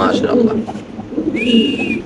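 Low, throaty pigeon coos repeat through the clip, mixed with nearby voices talking and a brief whistle-like tone near the end.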